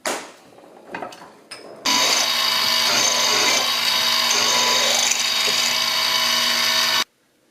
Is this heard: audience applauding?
no